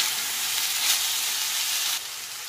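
Vegetables for sour spicy chicken soup sizzle steadily in a hot pan, close up and continuous, easing slightly quieter toward the end.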